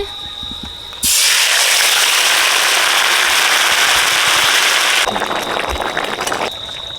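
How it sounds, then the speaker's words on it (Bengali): Marinated chicken goes into a hot oiled pan with whole spices, dried red chilli, cardamom and cinnamon. A sudden loud, steady sizzle starts after a moment and then eases slightly near the end. "কটা গোটা মশলা দিয়ে দিচ্ছি শুকনো লঙ্কা এলাচ দারচিনি ম্যারিনেট করা মাংসটা দিয়ে দিচ্ছি"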